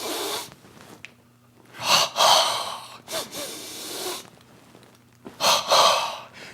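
Forceful yoga breathing after tensing the body, with loud, close breaths in and out in several strong bursts and quiet pauses between them, and no talking.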